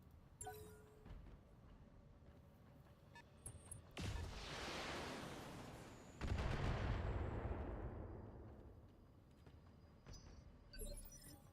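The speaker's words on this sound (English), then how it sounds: "That was an LRM-10 and an AC." A volley of LRM-10 missiles and autocannon fire in BattleTech: a roaring rush of launches and blasts swells in two heavy waves, then fades out, with small clicks before and after.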